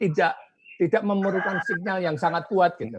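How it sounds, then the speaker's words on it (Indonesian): A rooster crows somewhere behind a man lecturing in Indonesian over an online meeting; a drawn-out crowing call is partly buried under his continuous speech. "ada ayam berkokok"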